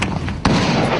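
Incoming rounds exploding near rebels outside Benghazi, Libya, a single sharp loud blast over a continuous rumbling background.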